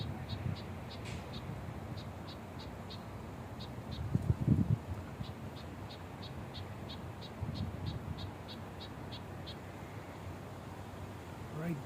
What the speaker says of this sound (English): So she's making a little bit of a chirpy noise.